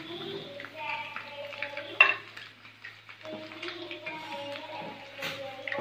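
Fried chicken is lifted out of a pan of hot sunflower oil while the oil keeps sizzling softly, with a metal utensil scraping and clinking against the pan up close and a voice talking over it.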